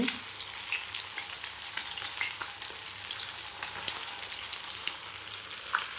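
Fish curry stirred gently with a ladle in a pan, a steady broadband sizzle with faint scraping strokes running throughout, close and even, with no talking.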